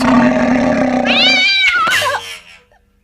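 A low, drawn-out feline growl rises into a strained, wavering yowl, loud and close, then fades to silence.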